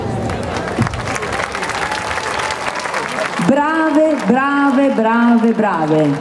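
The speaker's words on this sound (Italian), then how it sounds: "Adesso io mi metto di fronte e vi faccio l'applauso." An audience gives dancers at a Disney-themed dance show a loud round of applause with some cheering. Partway through, an adult voice speaks over the clapping.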